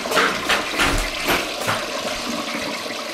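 Water gushes and gurgles from a clogged toilet in a video game, a loud flushing surge with several swells that ease off toward the end.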